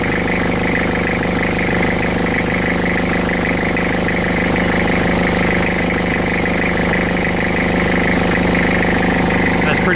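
A turbocharged Toyota Hilux engine idles with its oil filler cap pulled off, a steady, loud, unbroken mechanical drone with a rough, pulsing blow-by chuff throughout, close to the engine.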